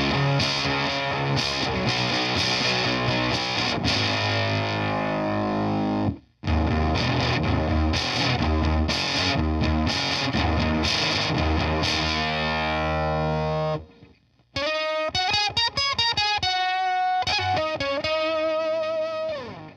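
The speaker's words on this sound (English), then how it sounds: "we'll flip over to the octave fuzz side and see what that sounds like" Electric guitar fed through a Dr. T Labs Diamondback Terrapin pedal on its octave fuzz side, loud splatty distorted chords with two brief breaks, then sliding lead notes near the end, no talking.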